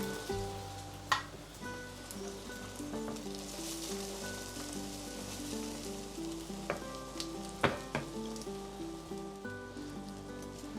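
Beaten egg seasoned with red pepper and spices hits sliced potatoes frying in a pan, producing a steady, crackling sizzle over soft background music, with a few sharp utensil taps along the way.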